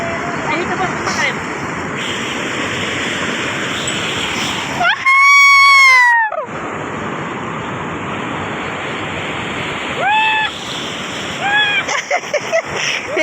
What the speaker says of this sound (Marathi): इथं इतका वेग आहे पाण्याचा